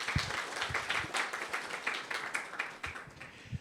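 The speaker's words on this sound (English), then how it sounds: "a big applause for everybody here who contributed making this such a" Applause at a life sciences and medicine breakout session of the Hong Kong Laureate Forum 2025, a room of hands clapping steadily and fairly close, with no talk over it.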